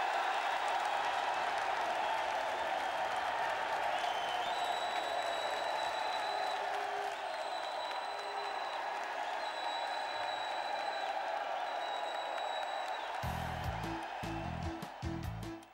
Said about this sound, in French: À Paris, c'est une foule en délire qui accueille le Breton.